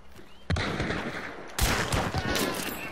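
Video game gunfire during a multiplayer lobby fight: a sharp shot near the half-second, then a dense stretch of rapid, loud cracks with a second heavy burst at about 1.6 seconds, continuing to the end.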